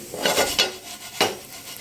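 Crisp scraping stirs of sliced plantain fry in a very hot pan, a few quick spatula strokes close up over a steady background sizzle.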